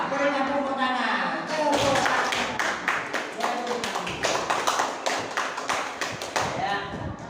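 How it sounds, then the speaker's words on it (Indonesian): Students in a classroom clapping their hands, a burst of quick sharp claps in rapid rhythm following a spoken voice, close and fairly loud. "Berikan tepuk tangan."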